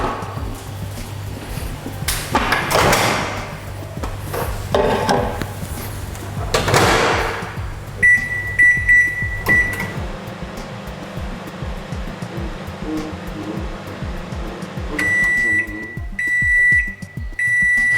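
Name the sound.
microwave oven running while cooking sweet potato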